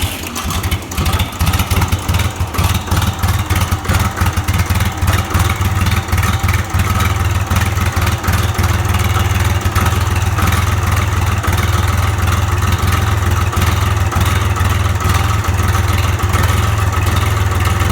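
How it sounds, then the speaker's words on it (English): A Case IH 395 tractor's three-cylinder diesel engine catches and settles into a loud, close, steady idle with an even rhythmic chug throughout. "And you can hear the telltale sound of a 3-cylinder diesel."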